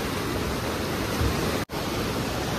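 Floodwater rushes through the Koshi barrage in a loud, continuous close roar of churning water, unbroken except for one instant dropout near the end, with no voices.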